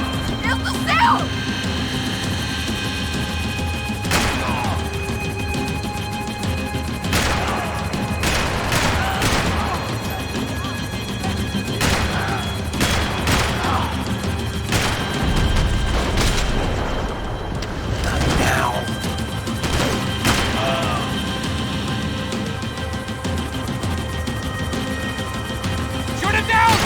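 Gunfire in the video game Max Payne 3 rings out as repeated loud shots and bursts amid heavy action noise, rumble and mechanical clatter, with game characters shouting over the chaos.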